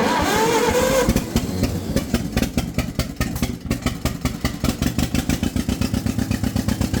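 Vintage 1950s Ford tractor engine running near and loud, a rough strained rev dropping into a fast rhythmic chugging beat as the throttle is changed while raking hay.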